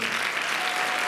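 Loud, dense applause from a concert audience in Finland, a continuous wash of clapping with no voices over it.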